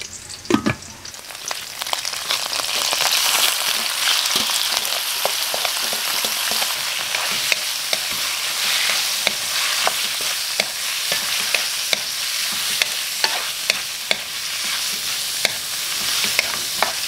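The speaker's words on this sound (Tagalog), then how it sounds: "So igigisa lang natin itong mga kapulutan, hayaan natin siyang magtubig." Pulutan meat sautéing in a pan for fish dinuguan, a steady close sizzle and crackle with frequent sharp pops and stirring scrapes, no talk.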